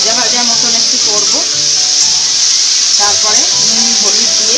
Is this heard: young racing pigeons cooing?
no